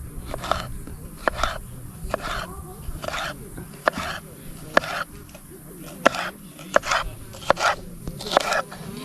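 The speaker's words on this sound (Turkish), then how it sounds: "Böyle iri iri doğrayın. Biberi soğanı." Repeated sharp knife strikes on a cutting board as peppers and onions are coarsely chopped at a campsite, in an irregular rhythm, close by, with faint background noise and occasional voices.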